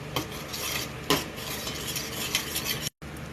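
A spoon stirs milk into creamy kangkong (water spinach) in a pan, with steady scraping and swirling close by and faint sizzling underneath.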